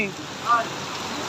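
Hailstones fall on a house roof during a hailstorm, a dense patter that sounds like heavy rain, close and continuous, with a brief voice partway through.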